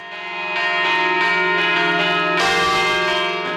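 Church bells ring in a rich, overlapping festive peal in Albaida for the Day of the Mare de Déu del Remei, the strikes building and then swelling into a louder, denser burst of ringing.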